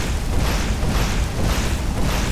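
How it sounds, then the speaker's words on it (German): Spell blasts in Skyrim, a German playthrough: a dense, continuous rumbling boom with sizzling bursts, sustained loud for the whole stretch with no talk. "so schnell kann man schießen, wenn man das gut timet mit den Zaubern"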